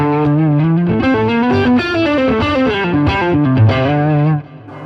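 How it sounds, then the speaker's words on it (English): A distorted electric guitar through a Line 6 Catalyst amp plays a melodic lead line, notes echoing with dual delay and a spacious reverb tail, loud and alone. "for the lead, I'm kicking on, as I say, the dual delay as well as the reverb."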